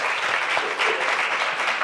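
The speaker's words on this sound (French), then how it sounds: "on peut l'applaudir" Brief, lively applause from a roomful of people, a thick patter of clapping that stays steady throughout.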